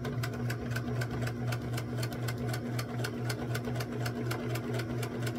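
A sewing machine stitches the seams of a small kite quilt, running in a steady, even rhythmic whir with regular needle clicks, close and continuous with no talk.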